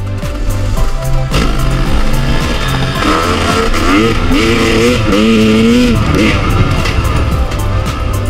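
Kawasaki KLX 140RF dirt bike engine buzzing loud and close on backroads, revving up and down in wavering pitch with speech over it.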